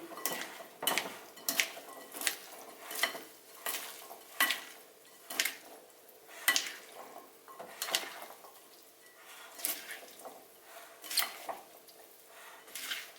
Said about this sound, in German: So, jetzt ein bisschen umrühren